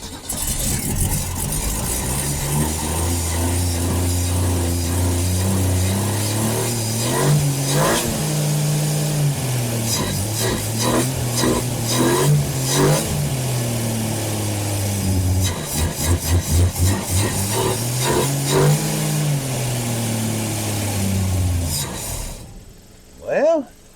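A Ford Falcon car engine with a struggling carburetor revs up and down unevenly, rising and sagging through repeated surges before cutting out near the end, loud and close, with people talking over it.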